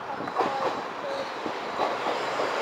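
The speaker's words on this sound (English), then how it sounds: "Just now pulling in your 1216. Southeastern Javelin to London St Pancras" A Southeastern Javelin train pulls into Ashford International station. Rail clicks and wheel squeals come over a steady rumbling wash of train noise, heard from the platform at moderate volume with no talk.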